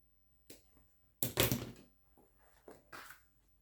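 Scissors snip through fabric along a center line while sewing a zipper placket, several short crisp cuts with one louder, longer snip in the middle, close by and with no talking.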